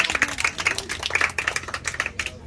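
A small audience gives brief applause, a quick burst of close, irregular claps with a crisp, patter-like texture, and no talk over it.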